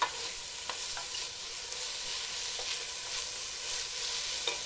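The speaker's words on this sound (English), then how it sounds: "Okay, so now our onions are going. You can see they're getting nice and golden already." Onions frying in a pan give off a steady, close sizzle with faint crackles and occasional stirring clicks, quiet and continuous.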